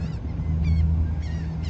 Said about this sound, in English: hey, seagulls, yay.